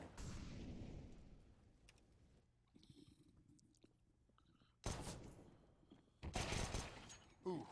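Pistol gunfire in a first-person shooter match: several sharp, loud shot bursts in the second half, the last ones close together, following a stretch of quieter game noise and voice.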